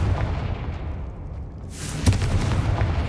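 A Confringo spell in Hogwarts Legacy blasts a stone statue, a loud booming explosion with a sharp burst over a dense rumbling game backdrop.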